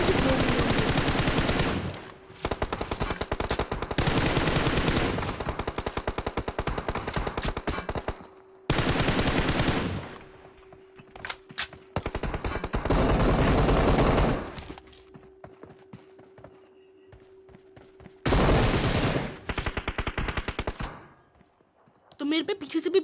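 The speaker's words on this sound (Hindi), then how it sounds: "तो मेरे पे पीछे से भी आगे से भी बहुत गोलीबारी चल रही होती है।" Heavy gunfire in a battle royale video game, dense bursts of rapid automatic shots in long loud stretches separated by brief quieter gaps.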